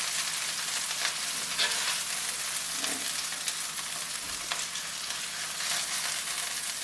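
Chicken sizzling in butter and oil in a skillet, a steady, dense crackling hiss with occasional faint clinks of a utensil, close and continuous, no talking.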